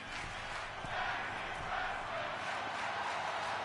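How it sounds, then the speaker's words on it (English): A dense crowd at a tag team wrestling match roars and cheers in a steady, loud wash of noise with no clear pauses. "Crowd loving it."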